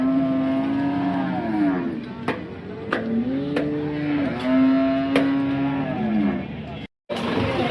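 A cow at a busy cattle market in Sangola lowers out in several drawn-out moos, loud and close, with faint voices and market noise around.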